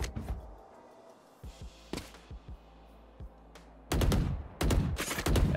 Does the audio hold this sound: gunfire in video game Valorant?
yes